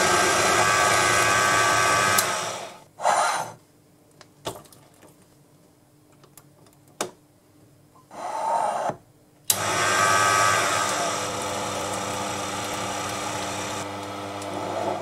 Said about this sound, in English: Back on the lathe, I brought the final part of the diameter down to size